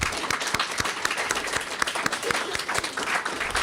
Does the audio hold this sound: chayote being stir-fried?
no